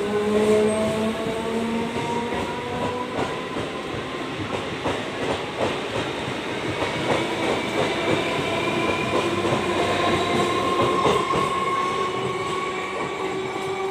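An electric local train on a 25,000-volt line pulls away from Krishnanagar station, its motors whining in rising tones over steady rumbling and rhythmic wheel clatter, loud and close throughout.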